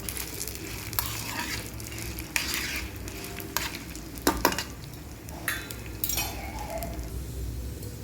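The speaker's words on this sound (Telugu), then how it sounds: "ఎండుమిర్చి మినపప్పు వేగే వరకు కొంచెం తిప్పుకోవాలి." Dry red chillies and urad dal frying in hot oil for a coconut chutney, with a steady low sizzle and occasional scrapes and clinks of a spoon stirring against the pan, no talking.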